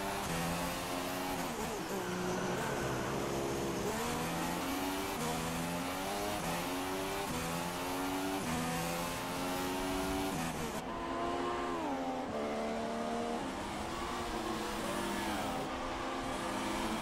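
Formula 1 cars in the F1 2016 game on PS4 howl continuously and loudly, engine pitch rising and falling repeatedly through gear shifts and corners.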